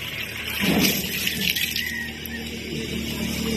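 Spring water flows in a steady, close gush with a faint trickling hiss, swelling briefly early on before settling into an even stream, with no talking.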